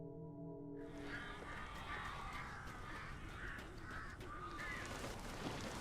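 Crows in the Alan Wake Remastered video game cawing repeatedly in harsh bursts over a dark, low ambient rumble, fairly close and steady.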